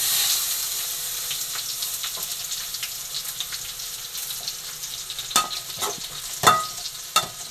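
Bitter gourd with tomato fries in a pan with a soft sizzle while a spoon scrapes and stirs, with a few sharp clinks toward the end, no voices.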